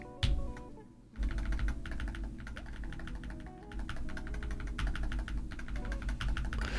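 Fast, steady typing on a Wooting 60 HE mechanical keyboard, a dense run of close clacking keystrokes after a brief pause, with no talking.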